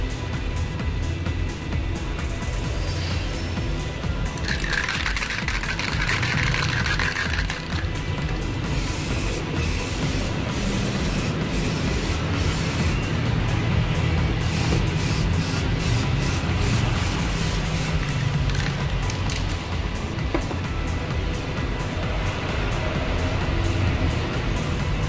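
Spray gun laying Diton Premium clear 9128 gloss over black car paint, a steady hissing spray over a low background rumble, with rapid ticking bursts in the middle and toward the end.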